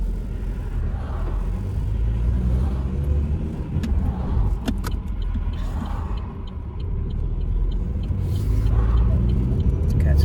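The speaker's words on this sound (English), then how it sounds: "huge queue of traffic behind them" Slow-moving road traffic in a queue rumbles steadily nearby, with car and heavy-vehicle engine drone and faint brake hisses, heard from inside a vehicle.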